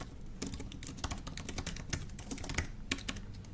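Rapid, uneven keystrokes clatter on a computer keyboard as a bash script is typed, close and continuous with a few louder key hits, no voice.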